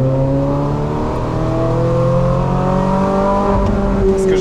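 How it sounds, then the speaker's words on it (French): The V8 engine of a Ferrari 458 Spider revs steadily and loudly, pitch climbing smoothly through the range in a continuous close-up drone. "c'est que c'est un V8 très linéaire et tu peux lui faire ses gammes"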